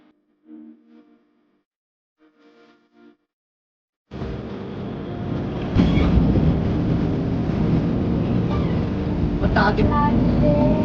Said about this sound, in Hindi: हमारी मिनी ट्रेन मतलब टॉय ट्रेन आ चुकी है